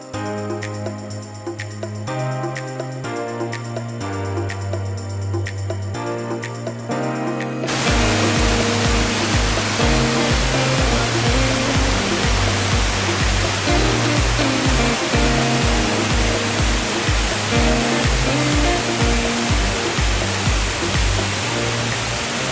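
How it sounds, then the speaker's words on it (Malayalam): A waterfall near the Munnar–Pooppara road in Kerala, heard as a loud, continuous rushing roar that bursts in partway through and persists under steady music that also plays before the water starts. "കുറച്ചങ്ങോട്ട് മാറിയാൽ ഒരു നല്ല വെള്ളച്ചാട്ടമുണ്ട്."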